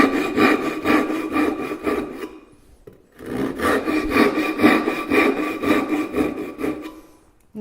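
A hand saw rasps steadily through wood while making relief cuts in a notch, with a rhythmic back-and-forth stroke that pauses briefly near the middle and then resumes, close and loud throughout.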